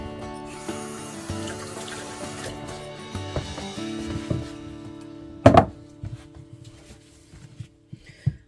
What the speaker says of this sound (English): So I'm gonna wash a piece of ginger.